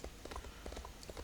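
Horse hooves gallop in a fantasy role-playing game as a quick, steady clip-clop of repeated thuds over a continuous wash of ambient noise, close and moderately loud.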